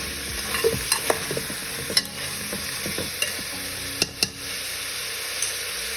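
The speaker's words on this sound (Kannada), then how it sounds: "ಸೊ ಎಣ್ಣೆ ಬಿಸಿ ಆದಮೇಲೆ ನಾನು ಇದಕ್ಕೆ ಸೌತೆಕಾಯಿಯನ್ನು ಹಾಕಿದ್ದೀನಿ." Cucumber pieces fry in hot oil, giving a steady dense sizzle while a spoon stirs through them, with light scraping clicks against the pan, close and continuous with no talk.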